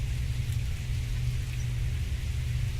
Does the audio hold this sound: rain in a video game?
yes